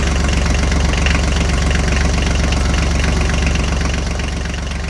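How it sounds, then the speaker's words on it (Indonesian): A green tractor's engine runs steadily and loudly throughout, a dense continuous idling drone with a knocking pulse and vibration, no voices over it. "Traktor hijau melaju di jalan yang mengarah ke kota, mengangkut hasil panen yang menanti."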